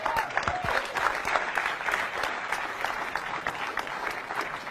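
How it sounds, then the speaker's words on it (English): Audience applause fills a room at a talk, a dense steady wash of many hands clapping throughout, fairly loud and sustained without pauses. "there was not enough clapping for that part right there"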